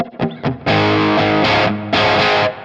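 Distorted electric guitar through the dirty preset of a NUX Amp Core Studio, loud and close, a few short picked notes and then sustained crunchy chords that ring out.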